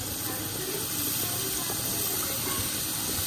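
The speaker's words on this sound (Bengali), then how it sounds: "জল দিয়ে দিচ্ছি" Water poured into a pan of fish curry, a steady close rush and hiss of liquid running continuously, with a low background murmur.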